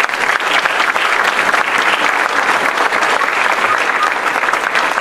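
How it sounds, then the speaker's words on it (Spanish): A church congregation applauds loudly and steadily, a thick wash of many hands clapping nearby that lasts the whole stretch with no break and no talk. "Den un aplauso al Señor."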